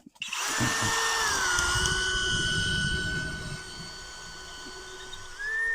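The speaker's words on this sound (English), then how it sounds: "We're going to drill a hole in this tree." A power drill with a half-inch bit whines loudly at high speed, boring a tap hole into a maple tree steadily for a few seconds, then drops in pitch before revving up again.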